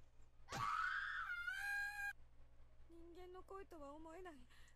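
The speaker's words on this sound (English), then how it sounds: "I've never heard screaming like this before. It's pure primal terror." A boy in the game Corpse Party screams: one long, piercing, high scream, loud and close, followed by shorter wavering cries.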